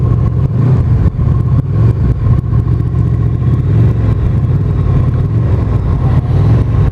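A Honda VFR 800 motorcycle engine and exhaust rumble loud, close and steadily, with a deep throaty idle and slight revving.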